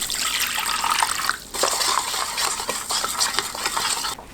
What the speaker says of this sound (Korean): 굵은 소금 한 큰술, 물 500ml 넣고 소금을 녹입니다